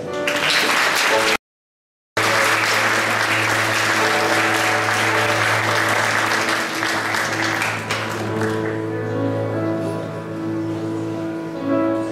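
An audience applauds graduating students at a school ceremony in a hall, with sustained, dense clapping that continues loud throughout and gradually thins near the end while a faint tone holds underneath.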